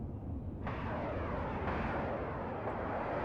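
Anti-tank attack plane in the Warno wargame, heard as a loud, sustained jet roar with a sharp onset and rumbling explosive texture throughout, no voices over it.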